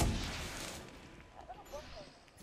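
A stun grenade goes off in Assassin's Creed Unity, a sharp close blast at the start that rolls off into a fading rumble, with a voice talking over the tail.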